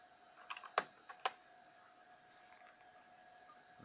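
Computer keys pressed in a quick combination while building a K6-2 PC, a few sharp close clicks clustered early, then quiet hum with a faint later tap.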